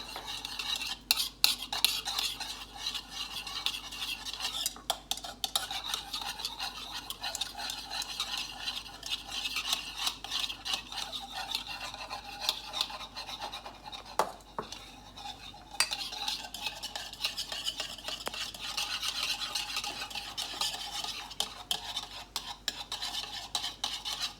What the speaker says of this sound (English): So I just want to kind of keep constantly stirring it in.